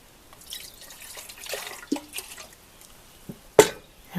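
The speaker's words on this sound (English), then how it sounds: "now I'm going to put a cup of water in this pot" A cup of water poured into a cooking pot, heard as quiet scattered splashes and drips with a sharper splash near the end, close and with no talk.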